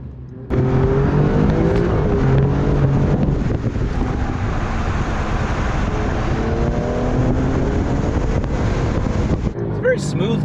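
A 2024 Alfa Romeo Giulia Quadrifoglio accelerating hard in full race mode on chilly tires, a loud continuous engine roar with rising tones over heavy wind noise, cut off abruptly at the end.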